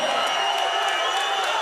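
A boxing arena crowd roars loudly and continuously at a live fight. The cheering forms a dense wash of noise with faint whoops rising through it.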